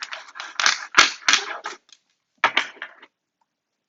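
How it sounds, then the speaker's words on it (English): A deck of tarot cards shuffled by hand for a pick-a-card love reading, giving close, dry riffling bursts in two runs separated by a brief pause, with no talking. "but I'm going to shuffle again."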